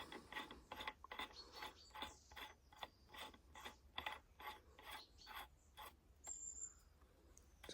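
A muzzle brake is screwed by hand onto a CZ457 rifle barrel, producing a quiet, rhythmic series of scraping metal clicks and grinding turns, close up with no talking.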